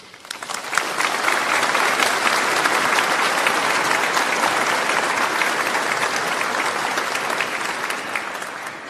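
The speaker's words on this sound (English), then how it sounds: "we deserve a round of applause" Graduation ceremony crowd breaks into applause, swelling quickly into a full, dense roar of clapping that holds steady and loud for several seconds before easing slightly.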